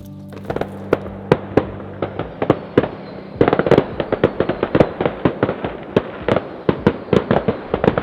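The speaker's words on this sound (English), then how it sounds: "As we all sat watching the local firework display on the previous night" Fireworks at a local display near a carp fishery at night: a rapid, irregular barrage of sharp cracks and bangs, loud and close, with some overlapping pops and crackle between the main reports, no talk.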